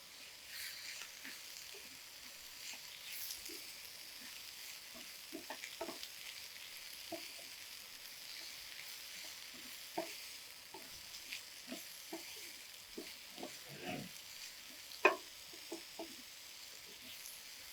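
Pumpkin, coriander and grated coconut are sautéed and stirred in a pan, with a soft, steady sizzle under scattered light scrapes and clicks of a spoon, quiet and close.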